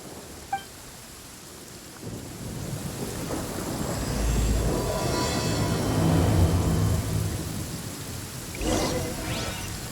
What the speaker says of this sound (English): The sound of the rain scares them away, but once it stops, they're yours for the taking.